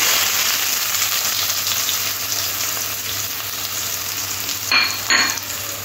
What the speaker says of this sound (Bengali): পেঁয়াজটা একটু হালকা করে ভাজতে হবে।